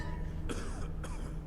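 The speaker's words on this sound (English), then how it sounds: "Listen to all that coughing." Characters in Skyrim cough twice, two harsh bursts about half a second apart, heard over a steady low background hum.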